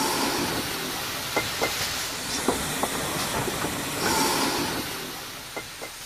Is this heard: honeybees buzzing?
no